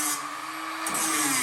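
A drill bores out a rusty spot weld on the rear valence of a VW bus with a loud, high, continuous whine that shifts pitch briefly midway, close up and with no talk.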